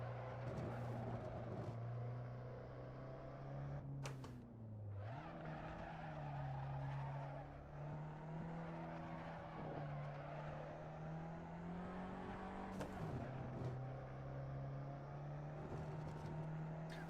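A race car driven in a racing video game, its engine holding a steady droning note that drops and climbs through gear changes, with tire scrub and squeal on corners, continuous and fairly quiet.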